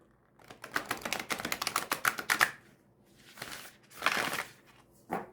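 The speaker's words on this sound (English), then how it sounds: "Riffle shuffle and a bridge." Rapid fluttering riffle shuffles of tarot cards, a dense burst of crisp snapping, a pause, then a second shorter riffle and a brief final flick, close up.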